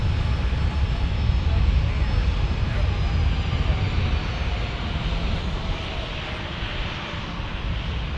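An airliner passes at San Diego airport with a loud, steady, broadband engine roar and low rumble. The sound stays constant and fairly close across the whole stretch, and no talk is audible.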